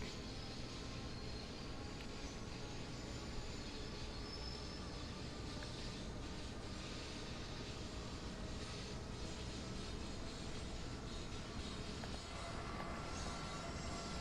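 An ACS-64 electric locomotive runs in Train Sim World 2, giving a faint, steady broadband rumble and hiss of rolling rail noise with no clear peaks.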